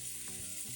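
Cheddar cheese and a pickle sizzle in a frying pan, a brief close crackling fry with soft bubbling pops and no voices.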